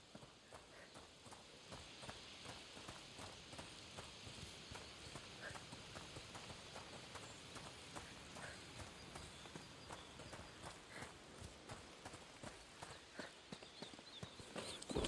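Horses walk in the video game A Plague Tale: Requiem. Their hooves clop in a steady, overlapping rhythm for the whole stretch, fairly close, over a soft ambient bed.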